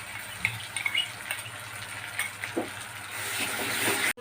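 Onion and coconut paste fries in oil in a home kitchen pan for a chicken curry, giving a steady soft sizzling hiss with occasional faint pops and stirring scrapes, fairly quiet and with no talking.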